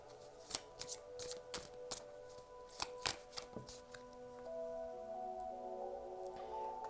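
Tarot cards drawn and handled during a reading, giving a run of quiet, crisp card snaps and slides in irregular bursts against a faint hum with sustained tones.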